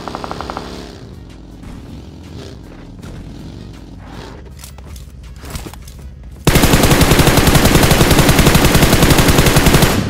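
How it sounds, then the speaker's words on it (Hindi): Gunfire in the mobile battle game BGMI (PUBG) starts with scattered, muffled shots and bumps. Then a loud, nonstop burst of rapid automatic fire comes in close and dominates the last few seconds. "सामने की तरफ आते हैं मुझे फायरिंग की साउंड"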